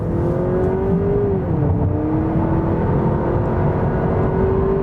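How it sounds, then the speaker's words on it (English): A 2023 Honda Accord Hybrid Sport-L, front-wheel drive, accelerates hard onto a freeway from about 20 mph, its engine droning loud and steady as the pitch climbs, dips at a simulated shift, then rises again under road noise, heard from inside. "we're gonna get on the freeway and we're gonna give it a bit of gas."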